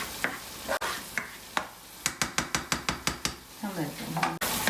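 Powdered masalas being sauteed into a puree in a pan for mutton kheema cutlets, a soft sizzle under a quick run of about a dozen sharp, evenly spaced spoon scrapes and taps against the pan, close and distinct.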